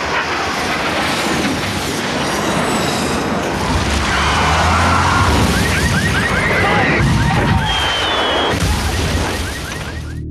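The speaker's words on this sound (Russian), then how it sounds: "Около полуночи с 7 на 8 августа под Схинвали бьет грузинская артиллерия." Georgian artillery firing near Tskhinvali, South Ossetia, around midnight in August 2008, heard as a dense, continuous wall of loud crashing and rumbling blasts that persists through the whole stretch with no pause.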